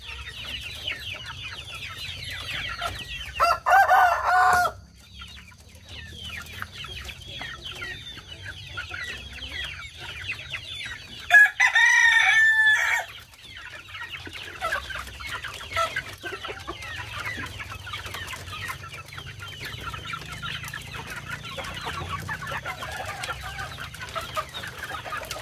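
Backyard chickens and roosters being fed, continuous chatter and clucking from a flock with two short louder calls standing out, fairly close and steady.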